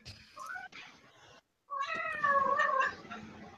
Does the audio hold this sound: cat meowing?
yes